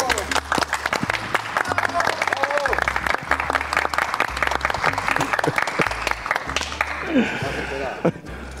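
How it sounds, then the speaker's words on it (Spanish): Studio audience applauding a guest at the close of a televised interview program, dense steady clapping throughout with music and voices underneath. "Un aplauso."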